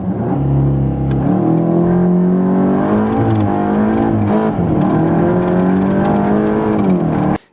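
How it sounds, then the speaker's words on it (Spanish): A 2024 Volkswagen Golf GTI Clubsport accelerates hard in a straight line, its engine note loud and steady, rising in pitch through each gear with brief dips at the shifts before cutting off abruptly at the end. "Vamos a acelerar en línea recta, a ver cuál corre más."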